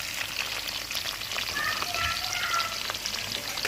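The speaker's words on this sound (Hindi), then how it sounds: "अब इसी घी में हम प्याज डाल देंगे।" Onions frying in hot ghee, left from frying potatoes, give a steady, close, even sizzle with soft crackles and occasional faint clinks, and nobody speaks.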